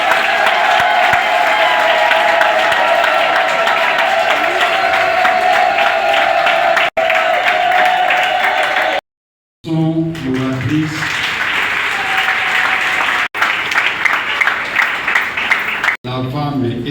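A crowd at a political party gathering applauds and cheers for the head of the women's league, loud sustained clapping with voices rising through it, briefly cut off midway before resuming.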